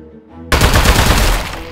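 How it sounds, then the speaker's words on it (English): A loud burst of rapid automatic gunfire at the boss in Aperture Desk Job, breaking in suddenly after a quiet musical moment and continuing as a dense rattling stream, close, no talk. "It feels weird to shoot at the boss"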